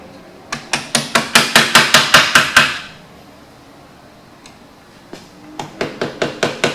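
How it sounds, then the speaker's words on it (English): Hammer knocking locking safety tabs off the inside primary bolts on a 2003 Indian Scout motorcycle: a rapid run of about ten sharp metallic strikes, a pause, then another quicker burst of blows, close and loud. "all we're going to do is just knock these locking tabs, these safety tabs, off these inside primary bolts"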